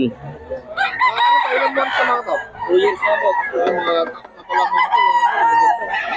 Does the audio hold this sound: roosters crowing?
yes